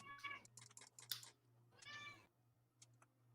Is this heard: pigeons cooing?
no